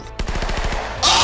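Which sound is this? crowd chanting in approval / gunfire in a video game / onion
gunfire in a video game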